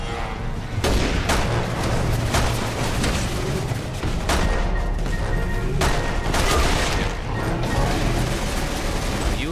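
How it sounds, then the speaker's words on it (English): Rapid bursts of gunfire and heavy booms from the video game Resident Evil 6, repeated sharp blasts over a dense rumbling backdrop with no pauses between volleys. "Shooting at me."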